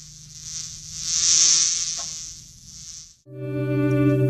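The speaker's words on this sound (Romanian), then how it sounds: "Musca își reîncepu zborul prin odaie." A fly buzzes around a room in a theatre recording, a high, whining drone that swells louder toward the middle and then fades before cutting off abruptly, followed by a steady tonal hum.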